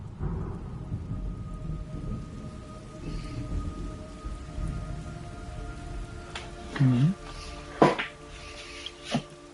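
Heavy rain patters steadily while low thunder rumbles, followed by several sharp, loud cracks near the end, in the video game Metal Gear Solid Delta: Snake Eater on PS5.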